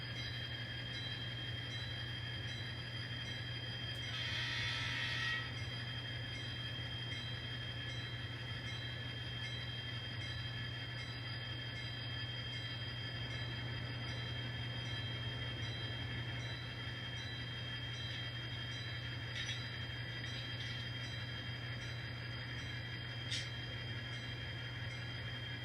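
A model train rumbles steadily along the track through a rail yard with a constant motor hum, a brief squeal of wheels, and faint clicks later on.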